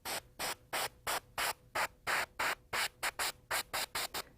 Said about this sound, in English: And spray in that white tip.